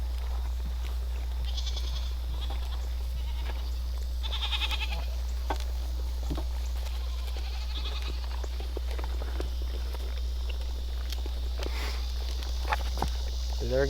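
Goats mill about at feeding time during breeding season, with a few faint, scattered bleats, light shuffling footsteps and rustling, all over a steady low hum.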